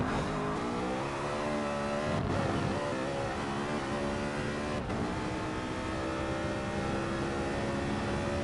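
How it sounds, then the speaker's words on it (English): Race car engines in Gran Turismo Sport at La Sarthe, a loud sustained whine of several cars shifting through gears and revving, with brief dips as they brake for the chicanes. "Seems like Armored Core really doesn't have the engine power to get past"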